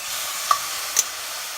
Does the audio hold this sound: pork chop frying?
yes